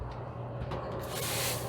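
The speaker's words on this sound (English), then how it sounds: "Let them continue to cook for about another 8 minutes and spray it again" Water is sprayed onto sourdough bread as it bakes, giving a soft, steady hiss that swells slightly toward the end, close by and without talk.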